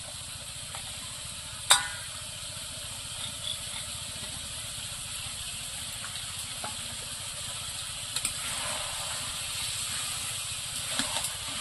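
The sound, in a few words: cumin paste stirred and sizzling in a broccoli liver curry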